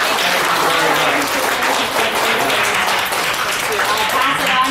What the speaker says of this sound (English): she needs a lot of applause and thanks